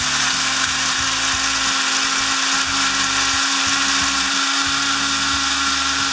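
A kitchen blender whirs steadily, loud and close, blending ingredients with a splash of tequila, its motor note wavering slightly as the contents churn, with no talk over it.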